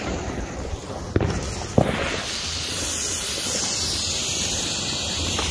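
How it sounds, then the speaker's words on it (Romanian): A flare torch burns in a football stadium at New Year, giving a loud steady hiss after a couple of sharp pops near the start. "începem așa cu o torță în stadion"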